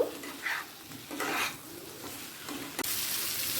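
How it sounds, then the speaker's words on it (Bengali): Potatoes sautéing with onions in oil for a duck egg do piazza, a soft sizzle under a few scraping stirs of a spatula in the pan, close and fairly quiet with no talk. "আলুটা দিয়ে পেঁয়াজের সাথে একটু কষিয়ে নিয়ে জল দিয়ে দেব"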